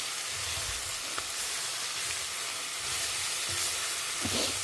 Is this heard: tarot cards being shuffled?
no